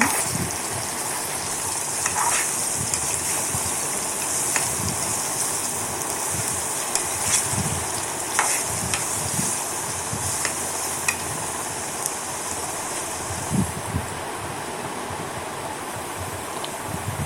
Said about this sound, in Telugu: తర్వాత ఒకసారి బాగా కలపాలి